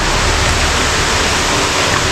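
Drinking water rushes and splashes continuously at close range in Sitio Silingan, a steady broadband hiss with no voices.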